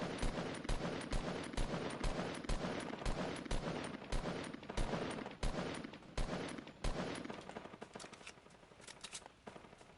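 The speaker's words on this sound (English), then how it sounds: "A lot of gunshots going off here now." Rapid bursts of gunfire in the Fortnite video game, a dense series of sharp repeated shots at a fairly even rhythm, some overlapping, with no talking.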